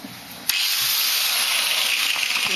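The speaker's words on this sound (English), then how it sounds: "let me get better angle filming the angle grinder." Angle grinder cutting metal, starting with a sharp bite and then a loud, steady high hissing whine that carries on close up without pause and with no talking.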